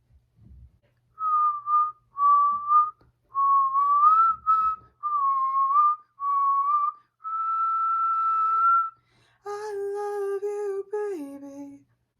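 A person whistles a melodic tune in clear sustained phrases, close and fairly loud, with brief pauses between notes and a descending run at the end, no talking.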